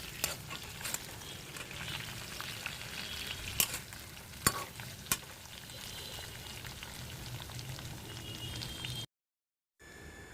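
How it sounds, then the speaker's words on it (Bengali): Potatoes and pointed gourd (potol) frying in a pan, a soft steady sizzle with a few sharp clinks and scrapes as the pieces are stirred, then a short silent gap before the sizzle resumes. "মনে করে বারবার আলু এবং পটলগুলোকে একটু নাড়িয়ে দিতে হবে যাতে একটা সাইডে বেশি পুড়ে না যায়"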